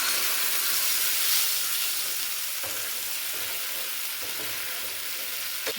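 A paste of cashew, poppy seed, melon seed and green chilli, thinned with water, fries in tempered oil for a boiled-egg chochchori. A loud, dense, continuous hiss and sizzle runs throughout at close range, with occasional faint pops.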